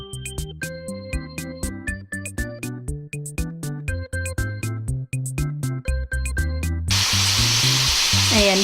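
Pork with ampalaya sizzles in a frying pan as it is stirred, a loud broadband hiss that swells up over the last couple of seconds beneath a steady, rhythmic melodic music track.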